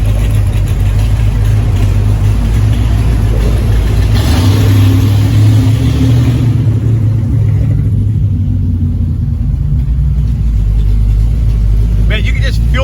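A 426 Hemi Daytona in Hemi Orange rumbles loudly inside an underpass, deep and continuous with the low end swelling midway, while people talk over it.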